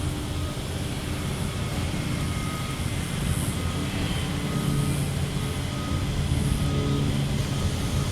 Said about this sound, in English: this is Sun Country 325, arriving from MSP, the creamsicle livery